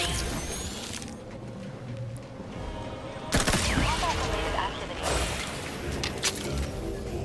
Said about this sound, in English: First time I've seen an NPC like shoot through the wall.